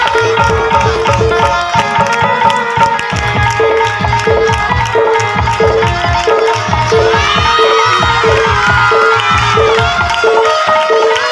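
Crowd at a Janmashtami matki phod contest cheering over loud rhythmic festival music with a strong repeating beat, voices shouting throughout.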